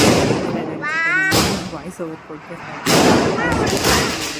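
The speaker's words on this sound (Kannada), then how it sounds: "ಪಟಾಕಿ ಸದ್ದಿ" Diwali firecrackers bursting in loud, sharp blasts, two big bangs with echoing tails and smaller crackles between, mixed with voices talking nearby.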